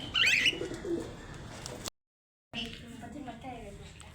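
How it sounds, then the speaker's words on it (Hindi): A pigeon coos softly near a home birdcage, a brief low call heard early among household noise and chatter before a short gap of silence. "वो खूबसूरत हसीन कबूतर इसके पिंजरे में आया"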